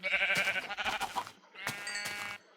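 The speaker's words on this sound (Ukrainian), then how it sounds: "Ух Вівця! Вівця! Вівця!" Sheep bleating in the Minecraft video game, two drawn-out game-sound bleats in quick succession, clear and close with no talk over them.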